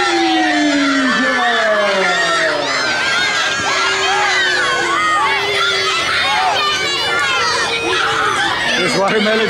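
Wrestling crowd at a Watermelon Jubilee event reacting against Mr. Prestigious and Scotty Santiago: loud continuous cheering, shouting and high children's yells, dense and sustained throughout.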